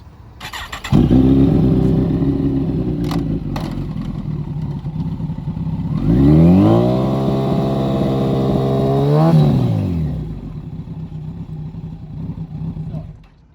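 A motorcycle engine revs hard to spin the rear wheel during chain washing and lubrication, a loud close drone that swells into a rising and falling rev, then drops back to a steady run.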